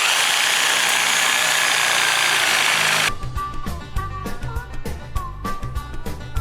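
A reciprocating saw cuts through a tree limb, its loud steady buzzing giving way to a choppier rattling stroke with irregular knocks as the blade works through the wood.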